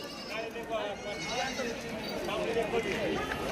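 Goats bleat at a Saturday livestock market in Shirur, Pune district, several wavering calls rising through the crowd while people talk close by throughout.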